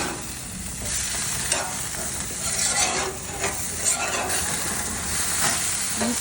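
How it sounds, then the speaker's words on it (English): Burgers fry in a pan with a steady, dense sizzle and crackle, punctuated by a few scraping, stirring noises, close and continuous. "Don't like to burn the burgers"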